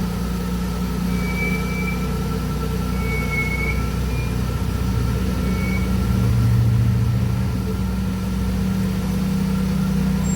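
A car engine runs steadily and close by, holding a constant drone for the whole stretch with a slight swell midway and no talking.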